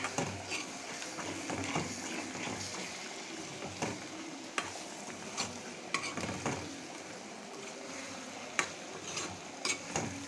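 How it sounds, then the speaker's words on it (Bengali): Mango pickle with fried onion and garlic being stirred in a pan over medium heat, making a soft continuous frying sizzle with scattered scraping and clinking spatula taps against the pan, with no talk. "চুলার আঁচটা মিডিয়াম রেখেছি, তারপর নিচে লেগে গেছে, ভালো মতো নেড়ে দিচ্ছি"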